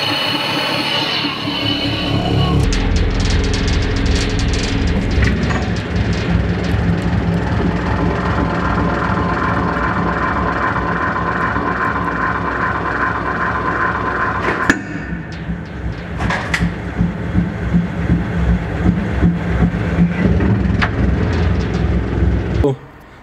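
A 200-ton hydraulic press hums steadily as it crushes stainless steel 304 bolts, its loud continuous motor drone running for most of the clip, broken by a sharp crack and several sudden bursts near the end.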